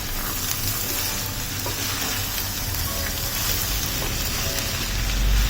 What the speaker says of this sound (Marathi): सगळ्या भाज्या व्यवस्थित परतून घेऊया